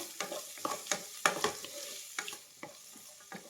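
Onions and ginger sautéing in a pan, a soft sizzle broken by repeated scraping stirs at an irregular pace, close and fairly quiet with no voices.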